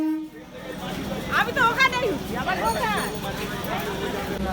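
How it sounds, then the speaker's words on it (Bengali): A train on the line toward Canning, near Sealdah, passes with rising and falling horn toots over a constant low rumble, and people talk nearby. "এই ট্রেনটা চলে যাচ্ছে ক্যানিংয়ের দিকে"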